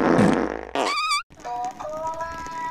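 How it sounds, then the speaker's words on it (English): A cartoonish fart sound effect in a Squid Game-style video game, a loud low blast that breaks into a warbling squeak, followed by a softer tonal jingle. "Stop farting."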